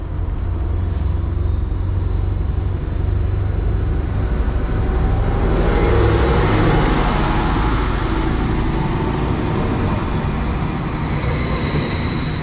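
A Class 755 train rumbles steadily through Wickham Market station on the East Suffolk Line, its low mechanical drone holding throughout, with a faint rising whine above.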